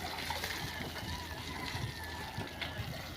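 A tractor-drawn water tanker sprays water onto a road, making a continuous hissing splash at moderate distance, with faint voices in the background.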